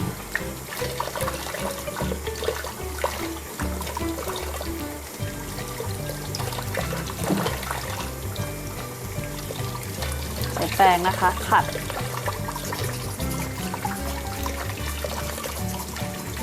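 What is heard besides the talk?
running tap water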